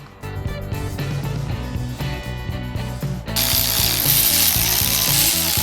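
A ratchet clicks in quick rhythmic bursts while spark plugs are threaded into the engine of a 550HP Caprice sleeper; near and loud, ending in a steady broadband rush.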